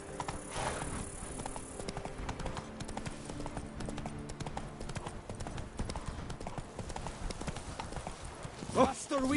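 Horse hooves clip-clop at a steady trot in The Witcher video game, continuous for several seconds alongside game music and ambient sound, with a voice speaking near the end.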